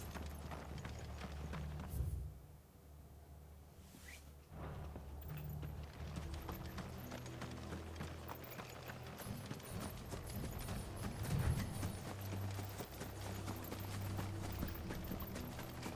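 Horses galloping in the video game Final Fantasy XVI, a steady clip-clop of hooves under a continuous mix of game sound and music, fairly loud and sustained throughout.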